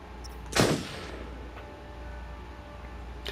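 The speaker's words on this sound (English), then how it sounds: "I thought I could shoot anywhere I want." A single loud gunshot in the video game Until Dawn rings out early and fades into a quiet hum, followed by a faint, distant pop and then near silence.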